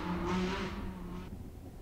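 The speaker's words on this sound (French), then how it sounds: "Il embraya dans un vrombissement et fonça en cahotant dans la rue étroite" A car engine roars and revs as the vehicle pulls away down a narrow street, loud at first and then fading and dropping off after about a second.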